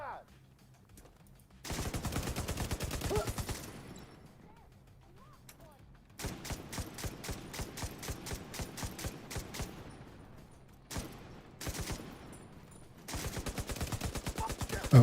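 Video game gunfire in an online shooter comes in long rapid automatic bursts separated by quieter gaps, with dense sharp repeated shots that are loud and close.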